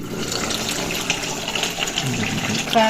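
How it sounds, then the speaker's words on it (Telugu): Water poured into mutton curry in a cooking pot makes a steady, close rushing gush that holds at an even level for the full few seconds. "తగినన్ని నీళ్ళు పోసుకొని ముక్కలు మునిగే వరకే పోసుకోవాలి."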